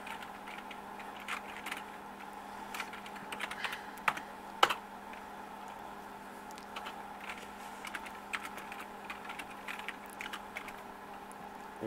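Steady typing on a Memorex Turbo computer keyboard, a quiet stream of clicky keystrokes with occasional louder key hits over a faint background hum.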